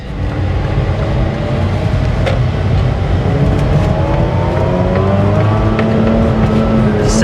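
A manual six-speed 2004 Mazda RX8 rotary engine pulls hard under acceleration, loud and close, its whine climbing steadily in pitch through the whole pull.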